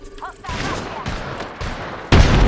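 Gunfire in Apex Legends, with a burst of shots and a loud blast near the end over game ambience, as players talk between the shots.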